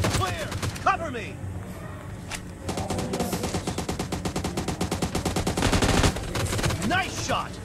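Gunfire in a team deathmatch video game shooter: rapid automatic bursts build into sustained rattling fire, with isolated shots before, loud and close over background game voices.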